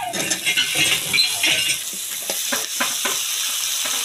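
Cut potatoes and eggplant go into a pan of frying spice paste, giving a steady sizzle with scraping and clattering stirs, loudest early and settling into a quieter fry.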